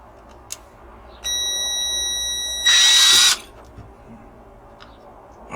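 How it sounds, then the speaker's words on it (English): A small drill bores out a rivet on a die-cast Dinky 972 Coles 20 Tonne toy crane, giving a steady thin whine for about two seconds before a louder, harsher grinding burst, then it stops; no one speaks. "Alright, let's start with a little drill."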